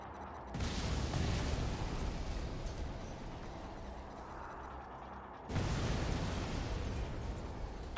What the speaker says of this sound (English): Send the barrage.